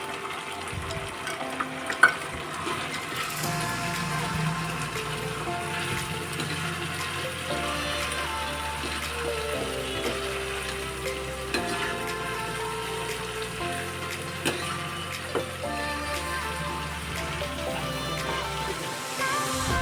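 Green chillies frying in a pan for keema biryani sizzle steadily while a spoon stirs them, with scraping knocks against the pan and no talking.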